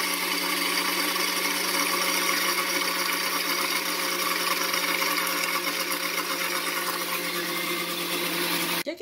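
A kitchen blender whirs steadily and loud, blending soaked bread with oil into a mayonnaise, a continuous motor hum that runs unbroken and stops abruptly at the very end.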